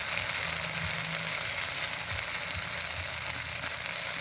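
Spice paste with salt and turmeric frying in a pan for a ritha river-fish curry, a steady, even sizzle that holds close and loud throughout with no voices.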